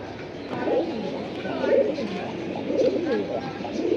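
A red khaki pair of pigeons coos in a few soft, rounded calls repeating roughly every second, close by over a steady background hum.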